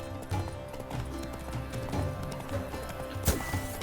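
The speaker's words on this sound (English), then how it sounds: "With a thunderous roar, hoofs pounds the ground. Why is there a horse right in the middle of the track?" Horse hooves in The Witcher 3: Blood and Wine, a run of quick rhythmic clip-clop beats close by over a background game score, with a sharp louder hit near the end.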